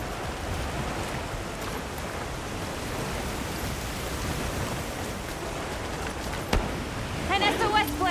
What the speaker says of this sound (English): A downpour like this could have an effect on the monsters.